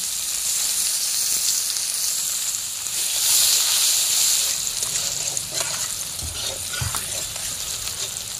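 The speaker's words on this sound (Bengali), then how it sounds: "পেঁয়াজগুলো হালকা লাল করে ভেজে নিচ্ছি" Chopped onion frying in oil in a pan for a spicy rohu fish curry with tomato, giving a steady sizzling hiss that swells for a moment partway through, with light stirring clinks near the end.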